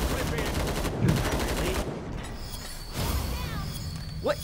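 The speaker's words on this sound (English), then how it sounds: "Yeah, that was two nail guns." Rapid gunfire from two nail guns in the video game Killing Floor 2, dense and continuous for several seconds and loud in the foreground, with game effects layered over it.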